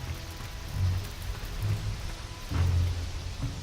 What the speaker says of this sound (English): Seems a bit bright to be raining.